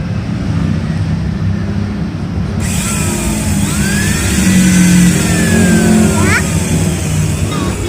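A Modern M-2350B angle grinder is switched on and spins up with a sudden high whine that steadies into a continuous loud running hum, with a short voice heard over it.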